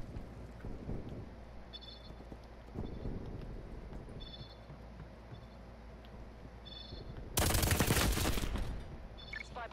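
Enemy gunfire punching through a wall in Black Ops Cold War, with a faint crackle of shots early on, then a sudden loud burst of rapid fire near the end.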